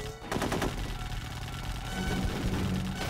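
Sustained automatic gunfire rattles in rapid bursts across a battlefield in the squad combat game Full Spectrum Warrior, dense and continuous with overlapping shots and no talking.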